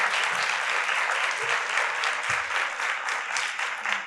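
A room of audience members at a forensic chemistry career panel breaks into steady, warm applause, dense clapping that carries on evenly throughout.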